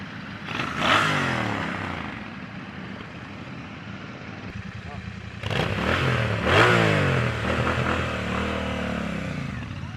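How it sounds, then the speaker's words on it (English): A Royal Enfield Bear 650 motorcycle with a 2-in-1 exhaust revs in two bursts, rising and falling sharply over a steady idle, close and fairly loud. "That is what the 2-in-1 exhaust system sounds like."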